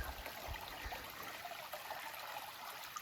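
A flowing creek that doubles as a hiking trail on Vermont's Long Trail, heard as a steady, continuous wash of running water with bright splashing texture, fairly close and alone without talk.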